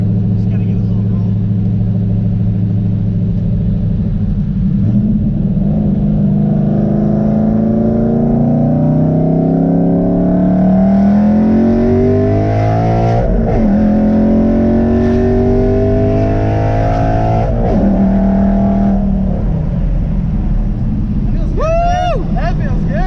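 Cammed Coyote V8 Ford Mustang accelerating hard through the gears, a loud choppy engine note sweeping up in pitch with shifts, with people talking over it.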